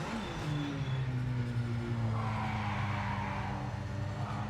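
Tire squeal and engine drone from a car in a racing video game, with a sustained low motor tone rising in pitch and a hissing skid sweeping through.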